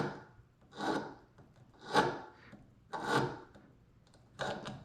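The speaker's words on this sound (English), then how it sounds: "get like a small needle file and just lightly just file any burr off of that thing" A small needle file rasps lightly across a rivet to remove a burr, four distinct close scraping strokes in a slow, steady rhythm with quiet pauses between.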